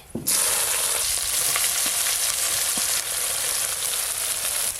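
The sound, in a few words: frying bay leaf, dried chili and chopped onion in oil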